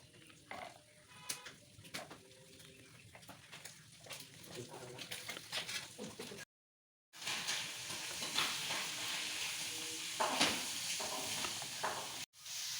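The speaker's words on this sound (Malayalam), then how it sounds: "ആവശ്യത്തിന് മുന്തിരി അണ്ടിപ്പരിപ്പ് ഇതിലേക്ക് ഇടാം." Raisins and cashews fry in a pan for a semolina egg cake, with a quiet sizzle and light stirring scrapes, then a brief silence before a louder, steady sizzle.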